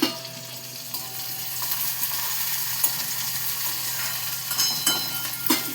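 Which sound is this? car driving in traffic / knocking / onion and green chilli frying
onion and green chilli frying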